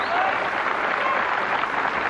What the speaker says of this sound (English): Crowd appreciating the belter of a match.